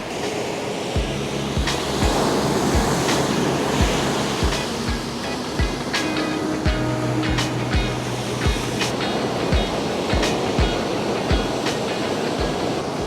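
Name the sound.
ocean waves at Marina Beach, Chennai, early morning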